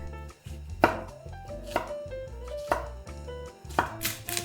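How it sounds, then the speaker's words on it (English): A knife slices through a green pepper on a cutting board, giving four crisp, evenly spaced cuts over a faint low background, close and with no speech. "Slice the green pepper."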